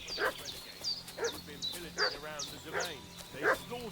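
A dog in a video game barks and yips in a steady series of about six sharp, fairly faint calls over a low background hum.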